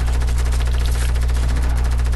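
Assault rifle fire in Fortnite, a loud continuous burst of rapid automatic shots with a dense, steady rattle and no pauses.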